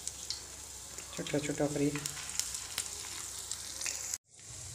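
Lentil fritters with finely cut spinach, onion and green chili fry in oil with a steady close sizzle. A voice speaks briefly over it, and the sound cuts off abruptly near the end.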